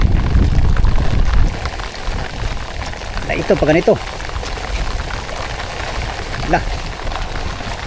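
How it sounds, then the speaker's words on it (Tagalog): Steady rain patters and hisses on a surface at night while someone speaks briefly over it during night fishing. "Ulan pa mga amigo."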